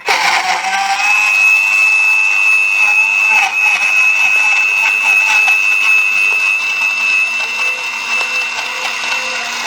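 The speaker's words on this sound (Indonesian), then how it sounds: "blender." Kitchen blender running continuously to blend gout remedy ingredients with water or citrus juice, a steady high-pitched motor whine that stays loud and even throughout.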